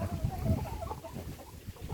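Hens and their young chicks cluck and peep softly in a small flock, a busy low murmur of calls that is fairly faint and fades toward the end.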